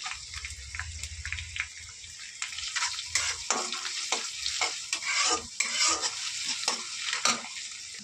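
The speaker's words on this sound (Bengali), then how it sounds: "রসুনটা দেওয়ার পর একটু নেড়েচেড়ে" Chopped garlic fries in oil in a pan for tadka while a utensil stirs it, producing a sustained near sizzle with scraping strokes and occasional clinks, and running water briefly in the background.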